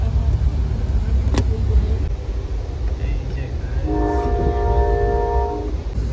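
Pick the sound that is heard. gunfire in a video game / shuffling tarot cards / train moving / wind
train moving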